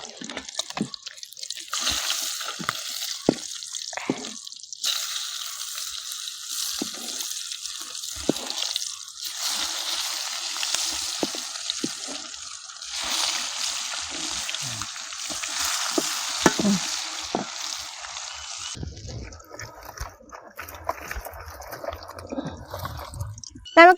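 Tilapia fish frying in a pan for a roast, a loud continuous close sizzle with sharp clicks and scrapes as the pieces are flipped, the hiss dropping briefly and returning, with a voice talking in places.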